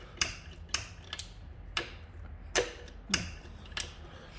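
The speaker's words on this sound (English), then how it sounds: "Goes through all the gears, I think." A 1975 Aermacchi Harley Davidson SS 125 transmission worked through its gears, heard as a series of faint mechanical clicks and clunks at an uneven, roughly half-second rhythm over a low background hum.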